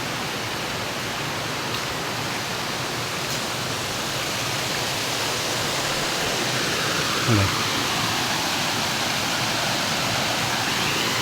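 A jungle waterfall deep in the forest behind a mountain at Phu Soda, a steady broadband roar of falling water filling the whole clip at an even level, with no talk heard over it.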